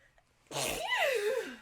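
A single loud, close sneeze from a woman, with a sharp intake and explosive burst that trails off into a falling tone.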